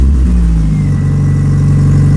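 A project car brought back from scrap runs with a loud, close engine that holds a low, steady rumble and climbs slightly in pitch as it revs; no voices are heard.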